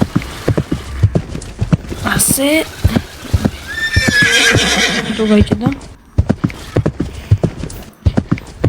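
A Roblox horse with rapid clip-clop hoofbeats and a loud rising whinny midway, game sounds up close while a person talks over it.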